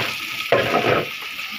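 Rice fries in oil for biryani with a brief hiss and sizzle that jumps suddenly louder midway, then settles into a soft, steady crackle.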